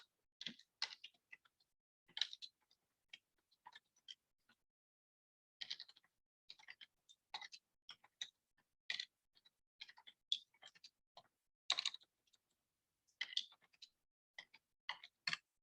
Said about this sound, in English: Put on my cap lock, and I'm going to type.